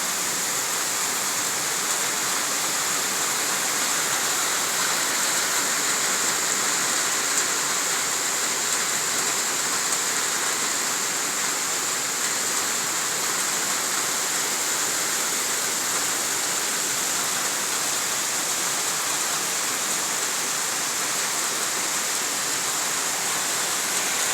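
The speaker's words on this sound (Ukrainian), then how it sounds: "дощі йдуть кожен день сильні" Heavy summer downpour pours steadily, a dense, loud, unbroken hiss of rain that stays constant from start to finish with no other sounds or voices.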